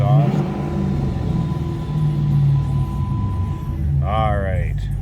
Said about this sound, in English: You hear a little bark out of that Borla exhaust.